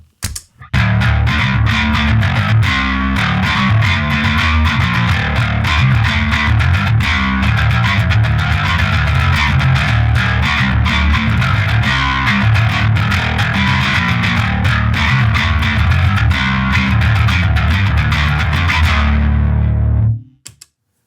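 A distorted, chorus-drenched bass guitar through a Tech21 Bass Boost Chorus pedal plays a driving riff for about twenty seconds, loud and gritty, then cuts off abruptly.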